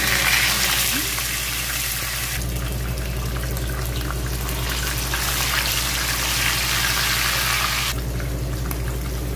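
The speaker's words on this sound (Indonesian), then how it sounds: "Minyaknya ini sudah panas, jadi langsung saja saya akan memasukkan ikannya." Fish frying in hot oil for a fish biryani, a steady broad hiss and crackle that holds evenly for the whole stretch with no talk over it.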